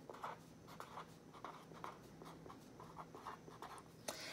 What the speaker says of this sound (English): So first we're gonna write our name on our paper.